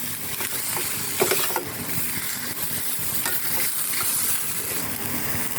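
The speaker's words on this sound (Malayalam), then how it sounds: "അതുകൊണ്ട് കുറച്ച് ഉപ്പ് ഇങ്ങനെ ഇളക്കി യോജിപ്പിക്കാം" Cooked sweet potato with turmeric and salt being stirred in a pan, a steady scraping and sizzling texture with occasional clinks of the spoon against the pan, close and continuous, no voices.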